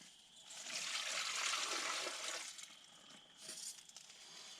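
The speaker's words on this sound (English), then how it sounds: "Now this morning I boiled some more water and just going to pour it inside." Boiled water is poured from a container into rain pants being used as a water bladder outdoors, a steady close trickling pour lasting a few seconds that tapers off, then a brief second splash, with no talking.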